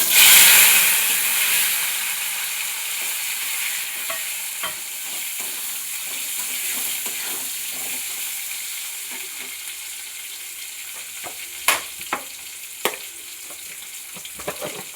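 Potato pieces hit hot oil with dried red chilli and cumin powder, producing a loud, steady hissing sizzle that settles slightly over time, with a few crisp stirring clicks near the end and no speech.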